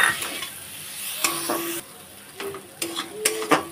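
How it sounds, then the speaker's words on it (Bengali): Egg, chhana and spices stir-fried in a pan, with a quiet sizzle broken by several sharp scraping and clinking strokes of a spatula against the metal, close and fairly loud. "এই দেখুন এটা ভালোভাবে কষিয়ে নিয়েছি"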